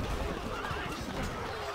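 A horse whinnies in the strategy game Stronghold: Crusader Extreme, a loud, drawn-out neigh with faint hoof clip-clop beneath it, heard up close.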